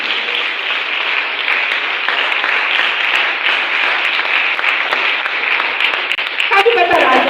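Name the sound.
audience applause, clapping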